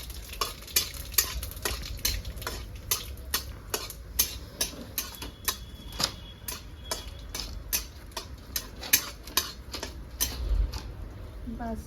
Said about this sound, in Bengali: জিরে ভাজা দেবো